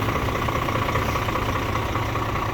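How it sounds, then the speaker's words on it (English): A truck engine idles steadily to warm up, a loud, continuous low rumble with a faint knocking texture and no voices. "Engine's running to warm it all up."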